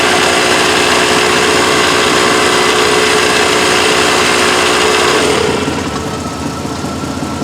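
A portable tire compressor runs steadily as it tries to pump up a tire on an S10, a loud continuous motor drone that drops in strength near the end.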